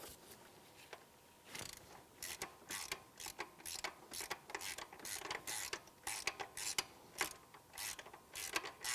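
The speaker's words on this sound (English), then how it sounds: "we can go ahead and put our 27mm on top" A ratchet drives a 27mm socket onto a knock sensor bolt on a 2007-2013 Acura MDX, fast rhythmic clicking in repeated bursts, close and fairly quiet, with no talk.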